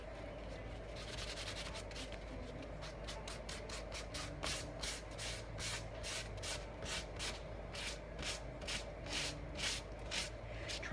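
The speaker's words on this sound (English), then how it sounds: "I'm pushing a little bit harder with my sandpaper now because it's done full of pink paint" Sandpaper rubbing pink paint off a piece of wooden furniture in firm, rhythmic back-and-forth strokes, a close, fairly quiet scratchy rasp that repeats steadily throughout over a low background hum.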